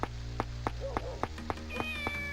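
A cat meows faintly once or twice in rain in the video game Shenmue, among a series of regular clicking taps, with a steady low electronic hum underneath.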